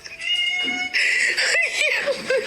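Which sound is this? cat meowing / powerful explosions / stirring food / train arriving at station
cat meowing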